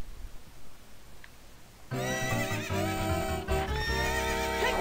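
Epona, the horse in the video game Zelda: Ocarina of Time, lets out a loud, close whinny that starts abruptly after a quiet stretch, with hoof clip-clop from galloping under it.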